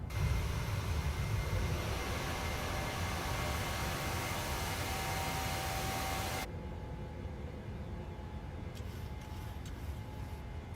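PMDG 737 airliner engines roaring in the climb after takeoff in Microsoft Flight Simulator 2020, a loud broadband jet roar that abruptly drops to a quieter steady drone with faint clicks near the end.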